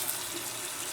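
Warm water runs steadily from a tap, a continuous close hiss of flowing water with no break or talk.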